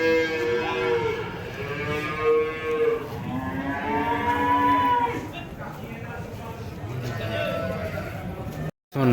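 Native cows and calves low repeatedly at a livestock market in Vaniyambadi, long drawn-out moos overlapping one another near and loud amid background crowd noise, ending with a brief cutout.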